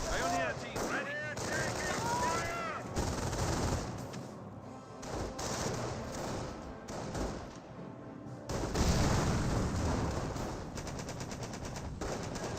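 Rifle and machine gun fire from the Company of Heroes game, with grenadiers fighting riflemen at close range: dense bursts and single shots running almost without a break, with faint voices mixed in.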